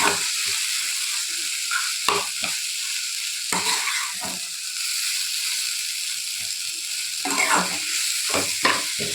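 Boiled tomato curry stirred in a pan, giving a continuous sizzling hiss broken by repeated bursts of spatula scraping at an irregular rhythm, close and fairly loud.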